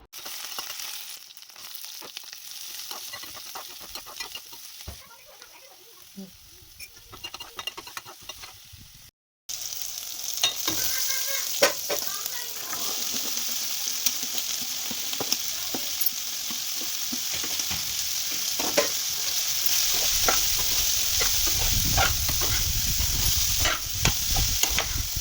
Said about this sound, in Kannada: ಸೊ ಈಗ ನಾನು ಬಾಣಲೆ ಇಟ್ಕೊಂಡು ಅದಕ್ಕೆ ಎಣ್ಣೆ, ಸಾಸಿವೆ, ಕರಿಬೇವಿನ ಸೊಪ್ಪು, ಕಡಲೆಬೇಳೆ, ಒಣಮೆಣ್ಸಿನ್ಕಾಯಿ, ಹಸಿಮೆಣ್ಸಿನ್ಕಾಯಿ ಎಲ್ಲ ಹಾಕಿ ನೀಟಾಗಿ ಅದನ್ನು ಮಿಕ್ಸ್ ಮಾಡ್ಕೊಂಡು ಫ್ರೈ ಮಾಡ್ಕೊತಾ ಇದ್ದೀನಿ